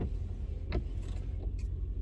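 Windshield wipers on a 2006 Lincoln Town Car make noise in a steady low rumble inside the car, with a couple of brief squeaky scrapes as the blades pass.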